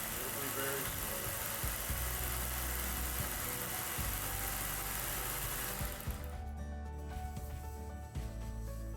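1x30 Harbor Freight belt grinder sander running: a loud, continuous motor whir and belt hum, steady from start to finish.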